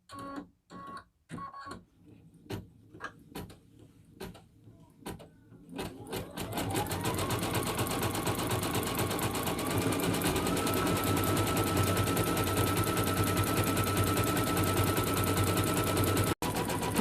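Single-needle embroidery machine stitching a design onto a child's sweatshirt: a few starting clicks and thumps, then a steady, fast, loud mechanical chatter that runs on without a break.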